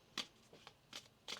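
Tarot cards are shuffled close by in a few quick, crisp riffles and slaps during a reading, soft and separated by short pauses, with no one talking.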